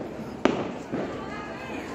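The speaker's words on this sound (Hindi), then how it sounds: "इतने ज़ोर से पटाखे ना चलाएं" A single sharp firecracker blast during Diwali celebrations in Jhansi cracks out near the start, followed by a softer second pop, over a steady wash of crowd and background noise.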